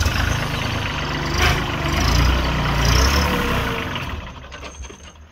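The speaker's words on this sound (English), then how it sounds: "So now we've done that, we can just drive the tractor away." A Branson compact tractor drives away from its quick-release backhoe, low engine rumble holding steady then fading as it moves off, alone with no talk.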